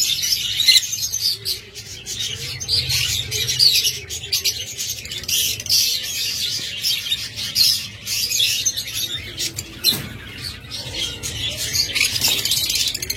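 A pet lovebird pair chirps in quick, high-pitched bursts that run almost without pause, fairly close, with scattered squawky calls over a faint low background.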